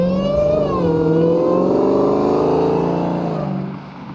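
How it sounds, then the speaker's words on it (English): A Dodge Challenger Hellcat Redeye muscle car roars past in a loud, aggressive flyby, its engine note rising and then sweeping away over about four seconds. "This should be a great flyby because it's going to be a wee bit loud"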